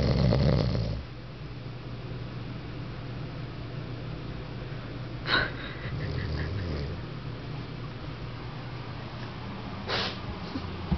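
A sleeping man snores indoors, with a low droning breath running steadily under background hiss, a louder burst at the start and two brief sharp sounds partway through.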